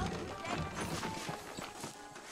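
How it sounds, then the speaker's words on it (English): Saddled horses in the video game Red Dead Redemption clop along in a quick, uneven patter of hooves, moderately close over a busy background for a couple of seconds. "I got the horses saddled up and ready out."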